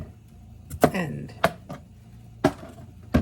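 A knife chops through a zucchini on a cutting board while vegetables are prepped for dinner, giving a few sharp, separate thunks spaced irregularly, close and fairly loud over a quiet kitchen.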